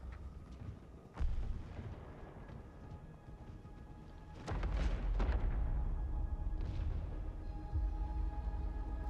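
Battlefield 1 combat with a sharp gunshot and later a heavy blast that opens into a sustained, loud battlefield rumble with further distant booms.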